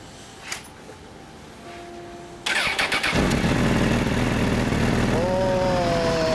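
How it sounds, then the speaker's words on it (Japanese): A 2006 Honda CBR1000RR (SC57) motorcycle engine starts after a quiet moment, then settles into a loud, steady idle close by. "エンジン音聞かせてもらえる"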